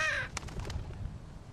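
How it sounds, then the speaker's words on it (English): A crow caws in the video game The Walking Dead Season 2, sounding close and clear as a short harsh cry followed by a few quick rasping calls over a quiet, low background rumble. "there's a crow up here with me"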